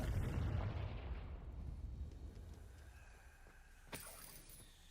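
A Confringo fire spell explodes in the Hogwarts Legacy video game: a deep, rumbling boom that rolls away and fades over a few seconds, followed by a faint sharp crackle.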